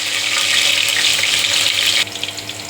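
Dried red chillies fry in hot oil with a loud, dense, hissing sizzle that suddenly thins out about two thirds of the way through, leaving a quieter crackle.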